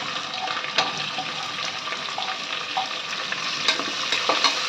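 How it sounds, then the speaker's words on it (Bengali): Chopped onion fries with chicken for curry in a pan, giving a steady close sizzle broken by the scraping clicks of stirring. "একটু ভাজা ভাজা করে নেব।"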